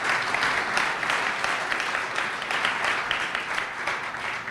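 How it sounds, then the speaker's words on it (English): A round of applause from a seated meeting audience for an organizer named Patty, an even, moderately loud clatter of many hands that holds steady without voices on top. "Another round of applause for Patty"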